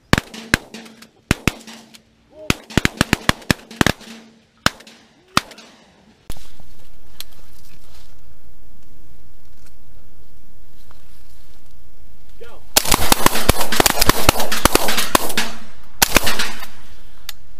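Guns firing at pigeons outdoors: a string of sharp, cracking shots comes first, followed by a long steady roar. Near the end, a dense rattle of rapid shots builds up, and voices call out now and then.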